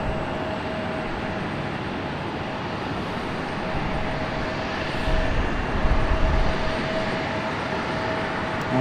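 A Republic Airways airliner passes at Raleigh-Durham International Airport, a loud continuous jet engine roar with a faint steady whine that swells slightly midway.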